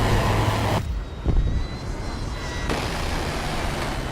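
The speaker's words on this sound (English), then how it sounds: "Your plane sounds like a pig." An animated Warthog plane's engine roars as a steady, broad drone, cutting abruptly in and out with a brief thump partway through.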